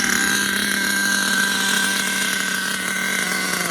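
An HPI Savage 25 nitro RC monster truck engine revs high and constant, with a loud, piercing, buzzing whine and its slipper clutch slipping, and no one talks over it.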